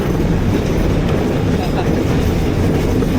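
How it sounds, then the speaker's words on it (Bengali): A mini train ride at an amusement park in Rangpur rumbles along at a good speed, a steady loud clatter of wheels and carriage noise filling the whole stretch without pause. "এটা একটি মিনি ট্রেন"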